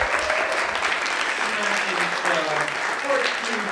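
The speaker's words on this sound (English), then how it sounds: "Give all of these filmmakers a big round of applause for everyone." An audience at a 48-hour film project screening applauds the filmmakers with sustained, dense clapping at close range, while voices are faintly heard talking underneath.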